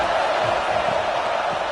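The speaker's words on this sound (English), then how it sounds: "how nice is it to have the home crowd going absolutely bananas?" A home crowd roars in a college football video game against Baylor, a steady, dense wall of cheering with no breaks.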